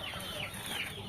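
A heavy, large fighting-quality rooster gives a brief, quiet clucking in a short snatch.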